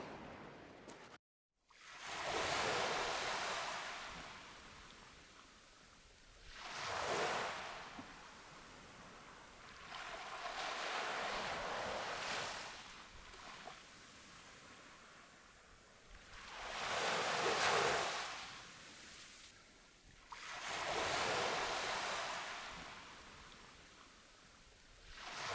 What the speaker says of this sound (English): moving down to the shoreline where the waves are breaking